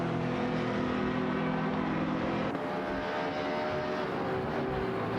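Race cars jostling for position in a racing video game, a steady loud engine drone with shifting tones and no pauses, sounding like several cars running close together.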